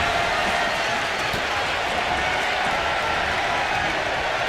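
Crowd noise from a WWE 2K25 Royal Rumble wrestling match, a steady dense roar of cheering and applause that holds loud and unbroken throughout.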